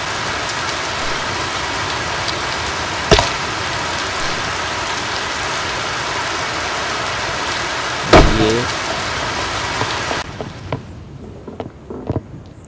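Steady rain hisses evenly throughout a survival crafting video game, with two brief sharp knocks partway through; the rain cuts off near the end, leaving quiet with a few small clicks.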